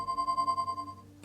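A cellphone rings steadily for just over a second in the Leisure Suit Larry: Wet Dreams Dry Twice game, a pulsing electronic tone that gives way to a brighter burst at the end.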